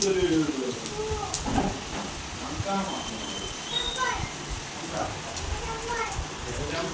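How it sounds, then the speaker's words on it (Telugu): Rain falls steadily in a village, with spray blowing in under a shelter. It makes a continuous soft hiss with scattered drops, and voices talk over it throughout. "ఇది చూడండి జల్లు ఇక్కడ దాకా కొట్టింది"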